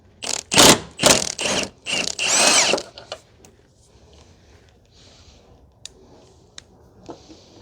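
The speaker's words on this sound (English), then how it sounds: "So we are going to start removing bolts" A ratchet wrench works 14 mm bolts loose from the main engine mount of a 2003–2008 Toyota Corolla 1.8, with a few loud, close bursts of ratcheting clicks followed by quieter scattered metallic taps and knocks.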